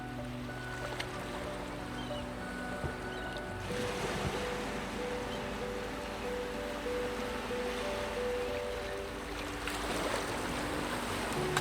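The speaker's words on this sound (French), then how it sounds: "Les vagues respirent au même rythme que toi." Calm sea with gentle waves washing in a soft, steady broadband rush, quiet and distant, with soft sustained musical tones layered over it and no voices.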